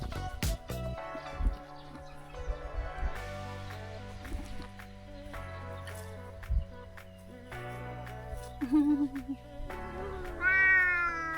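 A house cat meows repeatedly in short, rising calls amid a busy mix of background music and household sounds, with a brief higher-pitched cry near the end.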